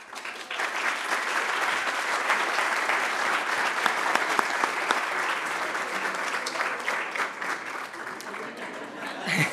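Sustained audience applause at an anniversary event for the Diario Financiero newspaper, honouring its international editor; dense, loud clapping that holds steady throughout and tapers slightly at the end.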